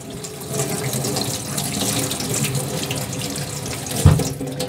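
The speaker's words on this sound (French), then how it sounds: "Je lave le poireau." A leek being washed under a running kitchen tap, a steady close rush of water splashing in the sink throughout, with a brief knock or clunk near the end and no voices.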